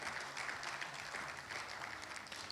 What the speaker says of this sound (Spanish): Den un fuerte aplauso a ese Rey maravilloso